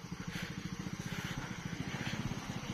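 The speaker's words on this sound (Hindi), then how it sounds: "दूसरा बाइक आ रहा है उधर से" Motorcycle engine at a one-way checkpoint near Biratnagar Airport, Nepal, a fairly faint steady putter with rapid regular pulses, idling close by with no talk.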